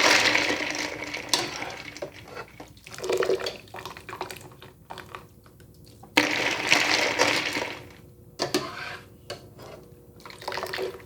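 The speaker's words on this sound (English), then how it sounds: "And I throw it here into the ice water." Blanched spinach splashes into a bowl of ice water, followed by sloshing, trickling and dripping liquid noises that rise and fall in bursts, close by with no talking.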